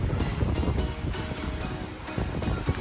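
Strong, cold wind gusts roar across an outdoor microphone at Clearwater Beach near a hotel parking area, steady broadband buffeting with periodic louder bursts throughout, no voices.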